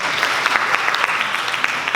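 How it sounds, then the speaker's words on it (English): Audience applause at an MPI 2023 opening ceremony, dense continuous clapping from a hall full of people with individual sharp claps standing out, loud and unbroken throughout. "let's give them a round of applause"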